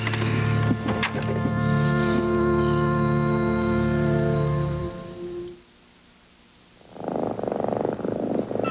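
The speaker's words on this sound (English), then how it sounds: "There's a sound a cat makes when she's really happy and healthy" A happy, healthy cat purrs loudly and close in a Cal-Can cat food commercial, a steady rumbling drone lasting about five seconds before it falls quiet, then other sound comes in.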